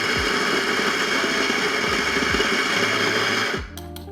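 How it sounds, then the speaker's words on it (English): A coffee grinder on a Solis Barista Perfetta Plus espresso machine whirs loudly and steadily with a dense buzzing drone, then winds down abruptly near the end. "grind some coffee."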